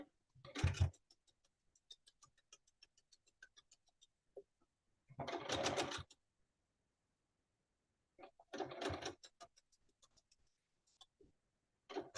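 A sewing machine stitching pinned quilt pieces runs in three short bursts of rapid mechanical whirring, with quiet ticks and clicks between them in an otherwise silent room.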